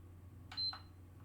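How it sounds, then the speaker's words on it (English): A PS5 Slim game console with a no-power fault gives a short electronic beep followed by a second tone, quiet over a low background hum. "so we're beep on, beep off"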